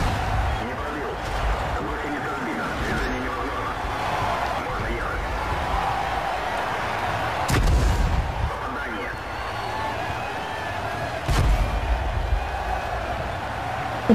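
A cannon fires twice in a tank video game, each shot a sharp, brief boom several seconds apart, over a constant rumbling engine bed while a voice talks.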